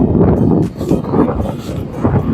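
Strong wind buffets the microphone beside Lake Toya in cold, snowy weather, a loud continuous rumbling roar with gusty surges.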